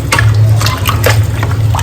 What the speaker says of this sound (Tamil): தேவையான வாட்டர் அதில் சேர்த்துக்கலாம்